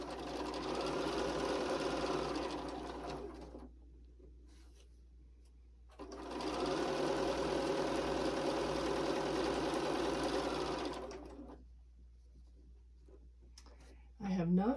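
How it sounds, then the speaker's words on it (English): A sewing machine stitches quilt pieces in two steady bursts of fast, even whirring and clicking, each lasting several seconds, separated by a short pause with faint handling noises. "And then we'll sew this down."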